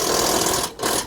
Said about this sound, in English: He's tightening up the bolts now, or the bolt